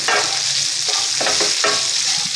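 Amla gooseberries roast in a pan over a low gas flame, with a loud continuous sizzle broken by several stirring scrapes, close up.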